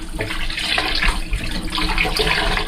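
Rice is washed by hand in water, rubbed and scrunched between the palms, giving continuous close sloshing and swishing with small splashes and no talking.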